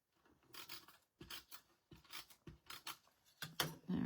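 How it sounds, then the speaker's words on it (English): A tape runner lays adhesive onto paper for a small treat purse holding two Hershey Kisses, making a series of short rasping, sticky rolls in bursts, close and fairly quiet, with no talk. "Just going to use some tape runner"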